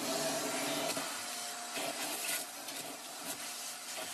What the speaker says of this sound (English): you grab your shop vac, take your filter out of your shop vac, and then